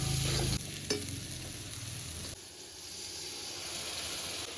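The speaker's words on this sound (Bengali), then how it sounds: "এবার ঢাকা দিয়ে দিয়ে ভালো করে মশলাটা কষিয়ে নেব" Spice masala for egg curry frying in a pan with dry red chilli powder and a splash of water, a broadband sizzle with stirring scrapes, louder at first and then settling to a steady, softer hiss.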